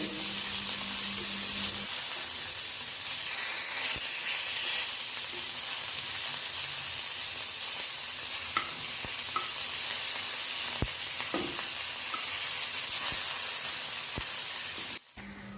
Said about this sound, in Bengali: একদম কম তেলে আমি এখন ভেজে নিচ্ছি মাছগুলো